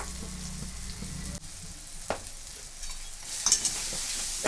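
Spoon stirring garam masala, coriander powder and turmeric into softened tomatoes in a pan over a low sizzle, with a few scrapes and clinks standing out, no talking.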